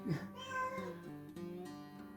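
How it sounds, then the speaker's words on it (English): A house cat meows repeatedly near the microphone indoors, a drawn-out, wavering call that carries through most of the moment, while crafting Easter candles. "She just comes in meowing."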